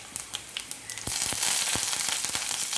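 Curry leaves and dried red chillies dropped into hot oil for tempering a Turkish berry curry, breaking into a loud, steady sizzle and crackle after a few sharp pops, close and without talk.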